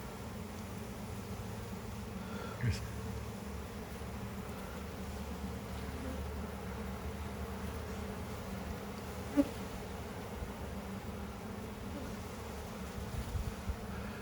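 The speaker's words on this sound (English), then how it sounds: "A lot of bees in this frame." Dense, steady hum of many honey bees swarming over an opened hive frame during a beekeeping inspection, a continuous close buzz with a couple of faint knocks and no talking.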